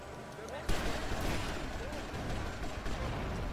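Gunfire in Grand Theft Auto: Vice City: a sudden loud shot rings out after a brief quiet lead-in, followed by a dense, sustained wash of game noise and further crackling shots, with a voice talking over it.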